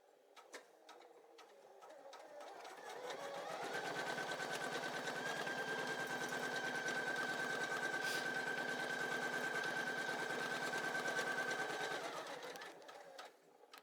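A Poolin EOC06 embroidery machine runs a placement stitch, its rapid needle chatter rising after a few seconds into a steady mechanical whir with a thin whine, then stopping near the end, close and alone.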